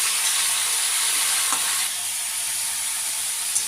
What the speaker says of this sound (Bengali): দিয়ে এবার আমি কষতে থাকি নেড়ে করে কষতে থাকি